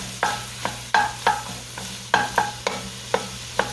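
Black-eyed peas and vegetables cook in a pot on the stove, a spoon scraping and stirring in sharp repeated strokes over a soft simmering sizzle.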